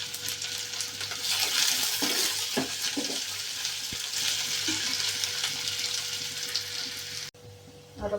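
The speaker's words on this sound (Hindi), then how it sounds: "और अब छौंक लेती हूँ मैं सब्जी।" Chopped onion frying in hot oil as the tempering for a home-cooked vegetable curry, a steady close sizzle running throughout with occasional stirring clinks, then a brief drop before it resumes.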